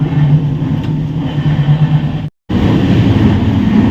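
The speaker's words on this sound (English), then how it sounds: "So the train is in full swing." Loud continuous rumble and clatter of the Tejas Express train running at speed, heard from inside the vista dome coach, with one brief dropout before the roar resumes.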